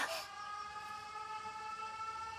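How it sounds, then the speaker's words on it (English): A steady, droning air raid siren wail in the video game 13 Sentinels: Aegis Rim holds over several seconds, tonal and sustained, in a quiet setting. "The sirens. This is bad."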